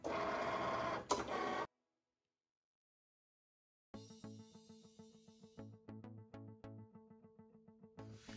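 A Cricut cutting machine working through a print then cut calibration sheet: a noisy whir, a gap of silence, then rhythmic mechanical stepping and whirring with repeated clicks as the carriage moves and cuts, alone without talk.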